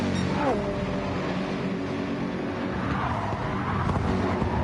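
Two McLaren race cars running together on the High Speed Ring, giving a steady, droning engine roar with a rising and falling pitch sweep as they drive past.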